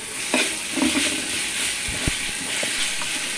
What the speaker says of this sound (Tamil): ஒரு முப்பது செகண்ட் நம்ம கைவிடாமல் நல்லா வதக்கி விட்டுக்கிட்டே இருக்கணும்